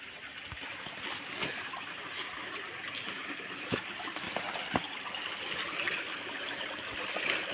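A stream near an African village where clothes are washed, flowing and trickling steadily, with a soft, broad rush of water and a few small splashes, fairly faint and continuous with no one talking.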